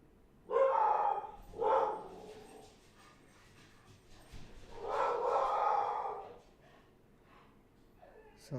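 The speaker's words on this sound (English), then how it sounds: "My dog is going nuts." A dog indoors barks at a delivery in a few loud, close bursts with short gaps between them, ending in a longer stretch of excited barking and whining.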